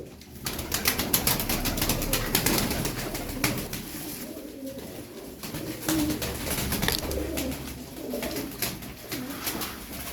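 Tumbler pigeons cooing in soft, rolling low calls, several birds close by, with scattered rustles and clicks around them.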